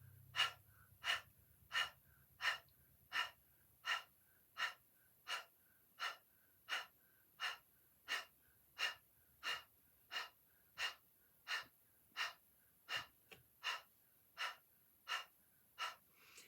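Rhythmic panting imitating a dog during a Kundalini yoga breathing exercise, mouth open and tongue out: about twenty even, forceful breaths at roughly one per second, close and clear with no talking.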